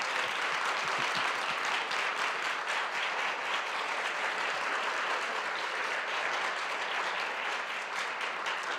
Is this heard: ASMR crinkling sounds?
no